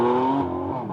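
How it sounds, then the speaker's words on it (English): GT4 race cars roll out of the pit lane onto the circuit at Virginia International Raceway, a loud, steady engine drone with layered harmonic tones, one pitch dropping partway through as the cars pass close by. "Here come the cars."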